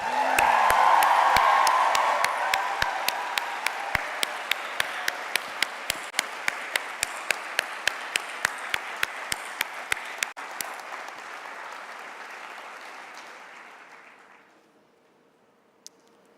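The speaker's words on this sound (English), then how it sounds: "a thunderous and warm South African welcome and applause for the 21st Nelson Mandela Annual Lecture speaker, Malala Yousafzai." A large audience at the Nelson Mandela Annual Lecture gives a thunderous, warm welcome for speaker Malala Yousafzai: loud sustained applause with cheers and whoops, gradually thinning and fading out near the end.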